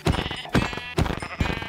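Sheep in the video game Minecraft bleat four times in a steady rhythm, each call a wavering, close and fairly loud baa standing alone.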